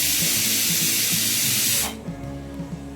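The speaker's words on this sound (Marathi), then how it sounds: "कुकरची शिट्टी होत नाही तर वर उचलावं लागते आता एक शिट्टी होऊ देते" Steam bursting from a kitchen pressure cooker whistle during rice cooking, a loud sustained hiss for about two seconds that cuts off abruptly, leaving a low rumbling kitchen background.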